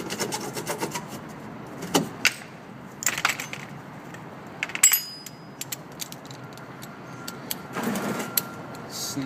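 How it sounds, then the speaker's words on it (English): Screwdriver wedges being pried out during an assembly job, heard as scattered close scraping, clicking and knocking bursts with a metallic clink and quiet pauses between. "Lastly, I'm going to remove my screwdriver wedges."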